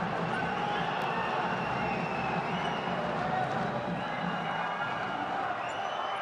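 A packed arena roars steadily through a freestyle wrestling bout at the Asian championships featuring Asan Zhanyshov against Farouki, the crowd noise dense and unbroken and swelling late in the match, with commentary voices mixed in.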